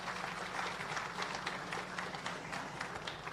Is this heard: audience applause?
yes